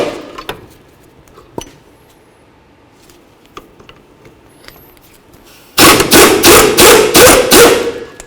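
A 17mm wrench loosens brake caliper slider bolts on a 2003-2009 Toyota 4Runner during a rear brake job: faint scattered clicks, then a loud, close run of rapid, rhythmic mechanical bursts for the last few seconds.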